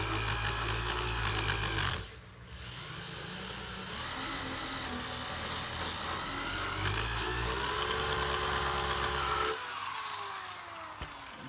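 Rotary tool wheel grinding leftover decking off a surfboard, a close, steady power-tool whine and abrasive grinding that shifts pitch and briefly drops around the two-second mark before continuing.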